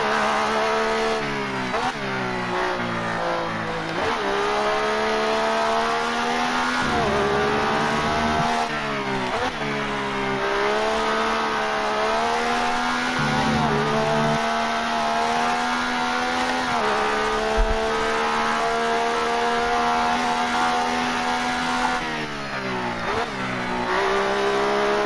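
McLaren MP4/23 Formula 1 engines screaming around Silverstone in a sim racing game, a continuous loud high-revving whine that rises and dips through gear changes, with other cars' engines layered in close behind.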